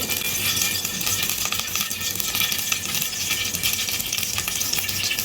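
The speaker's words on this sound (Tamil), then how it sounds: "கடுகு நல்லா பொரியட்டும்." Mustard seeds crackle and spit in hot oil for dal fry, a dense, continuous fizzing spatter with irregular sharp pops, close and fairly loud.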